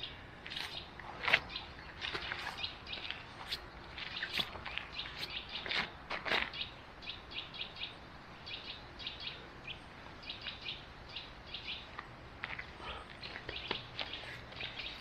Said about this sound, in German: Man hört die Vögelchen.